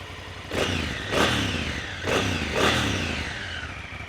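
A Honda Africa Twin CRF1000L 1000cc motorcycle with automatic transmission revs in four repeated bursts, each rising and falling, with a rough, throaty idle between them.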